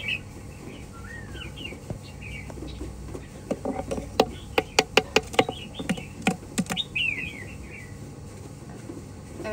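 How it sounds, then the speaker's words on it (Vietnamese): Wild-caught forest songbird sings in varied, warbling phrases with rising whistles, while a rapid series of sharp clicks or taps cuts through the middle against steady low background noise. "Được cái những em chim già rừng như này nó hot tọng rừng, hay luyến láy."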